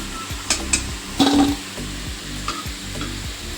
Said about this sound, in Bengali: দেখুন আলুগুলোকে কিন্তু আমি লাল লাল করে ভেজে নিয়েছি। এবার আমি তুলে নিচ্ছি।